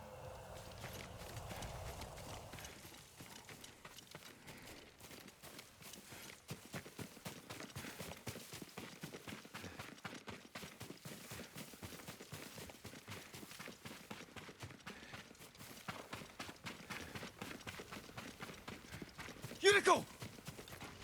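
Horse hooves clip-clop at a steady walking rhythm in the video game Ghost of Tsushima, fairly quiet and continuous, with a brief louder burst near the end and voices speaking around it.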